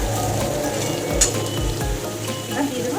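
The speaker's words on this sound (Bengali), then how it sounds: "আলুগুলো একটু ভেজে নিয়েছি, এবার দিয়ে দেবো ভেন্ডিগুলো।" Okra being added to potatoes already frying in hot oil, a steady dense sizzle with crackles and a few stirring clatters. Close and continuous, with no talk.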